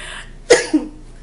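A single sharp cough from a person getting over a lingering cough, close and loud, followed by a softer second cough or throat clear against near silence.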